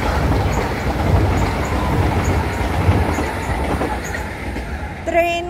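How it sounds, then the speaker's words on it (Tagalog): An MTR train from Central passes along the Sunny Bay seaside, heading back toward Tung Chung station, with a loud, steady rolling rumble and clatter of wheels on track that eases off near the end as a faint tone appears. "Train galing sa city, galing ng central, pabalik ng Tung Chung MTR station."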